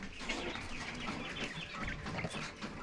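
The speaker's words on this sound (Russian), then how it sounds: "Вот это те первые перепела, которых я инкубировала из покупанных яиц." Quail hatched from purchased eggs calling and chirping together in a close, steady chorus of small overlapping bird calls, with no talking.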